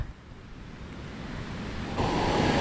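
Bhivpuri Waterfall heard from above as a broad, continuous roar of rushing water mixed with wind buffeting the microphone, swelling louder toward the end.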